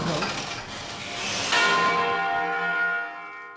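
A large church bell strikes once loud and close, its bronze tone ringing out and slowly decaying with long shimmering overtones.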